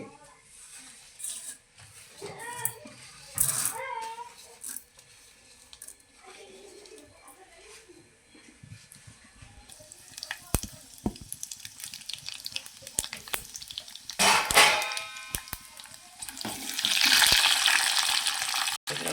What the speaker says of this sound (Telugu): నెయ్యి వేడెక్కింది ఇప్పుడు తాలింపు వేసుకుందాము